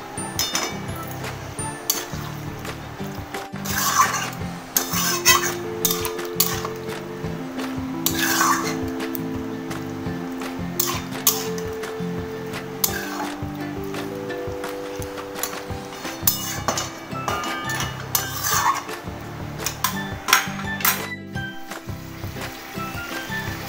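Potato and pointed gourd curry being stirred in a pot, with repeated clinks and scrapes of a spoon against metal in a steady rhythm, close up and moderately loud over a low background hum.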